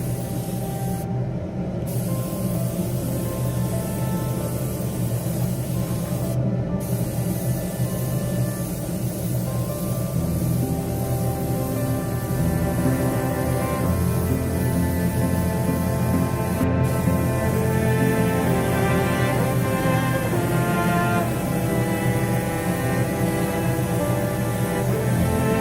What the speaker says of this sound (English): Smaller airbrush helping to fix the lines